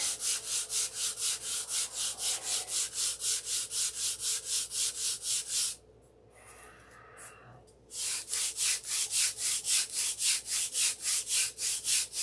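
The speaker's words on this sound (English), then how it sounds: "Now I'm sanding with the grain with 180 to eliminate those scratches that I put in with the 80 grit." Sandpaper of 180 grit rubbing along the grain of a wooden model airplane fuselage in steady, rapid back-and-forth strokes, close and loud, with a short pause in the middle before the rhythmic sanding resumes.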